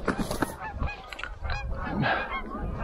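Giant Canada geese honking during a goose hunt in northern Alberta, a busy overlapping chorus of loud, close calls throughout with steady outdoor background noise.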